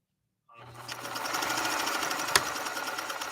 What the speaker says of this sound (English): let's sew this next pattern and see what we think